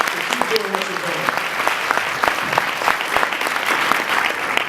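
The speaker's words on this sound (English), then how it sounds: "So give yourselves a round of applause." An audience at a leadership institute event bursts into loud, sustained applause, with crisp individual claps standing out and a few voices calling out beneath the clapping.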